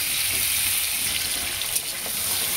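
Potato and bottle gourd fry in a pan, giving a continuous, even hiss of sizzling oil close by, with a single small knock partway through.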